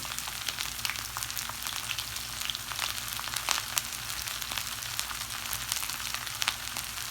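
Steady crackling sizzle of onions frying in a pan, with continuous popping and hissing close by, no voices.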